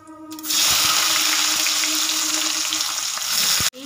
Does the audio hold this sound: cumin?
yes